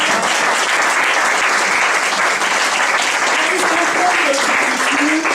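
Church congregation applauding steadily throughout, a dense sustained clapping with voices mixed in.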